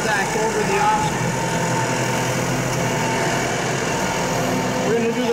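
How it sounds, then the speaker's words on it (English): Farm tractor on Mitas PneuTrac tires rolling over an obstacle during a tire demonstration, a steady, loud engine drone throughout with rumbling low end and background voices faintly under it. "observe the PneuTrac, and again, the stability of the tractor, the operator, and the tires as they make contact over the obstacle"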